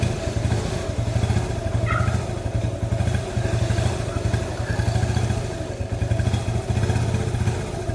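A small Honda ATC 70 three-wheeler engine runs close by with a steady, pulsing putter that rises and falls slightly, with a brief clatter partway through.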